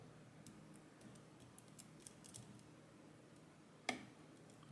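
Pins clicking inside a Medeco Original six-pin lock while it is picked under tension, a faint scatter of soft ticks with one sharper click near the end, alone without talk.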